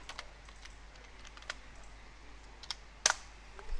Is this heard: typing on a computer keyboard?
yes